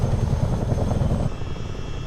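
A Chinook helicopter landing in Microsoft Flight Simulator 2020: a heavy, steady rotor thump and engine drone that eases slightly partway through, continuous and close, with no voices.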